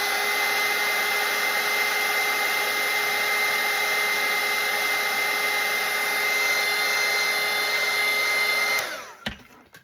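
A hair dryer drying a watercolour painting, a loud steady whooshing blow held evenly at close range before it switches off and winds down near the end, with no talk.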